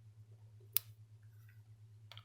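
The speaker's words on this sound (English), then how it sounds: "So we'll try cutting the paracord again with these scissors." Cheap knock-off scissors snap at a length of paracord, giving a sharp, faint click and a second softer snip near the end over a steady low hum.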